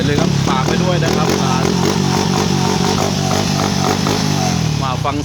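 A motorcycle with a standard engine and an APITECH fuel-injection conversion kit idles steadily close by, its busy mechanical running continuous under someone speaking Thai throughout.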